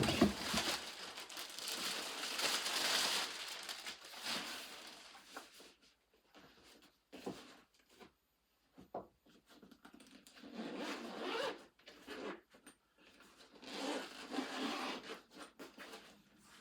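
A bag holding a camera housing's dome port is rubbed and crinkled, with a zipper-like rasp as it is opened. The handling sounds are soft and close, come in uneven bursts with short pauses, and no one speaks.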